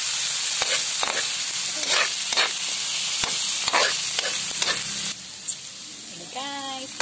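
Garlic fried rice with mixed vegetables sizzles steadily in a hot pan, with repeated scraping strokes of a spatula stirring it at a loose rhythm, close and fairly loud throughout.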